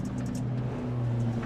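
A dirt track race car on the I-55 oval throttles up with a steady, droning engine hum, low and continuous with slight rises in pitch, heard at moderate distance without talk.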